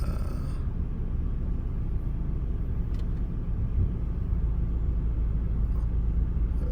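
A low, steady rumble fills an automatic car wash machine in the USA as a car sits inside it. A faint brief hiss cuts through the drone, and no one speaks.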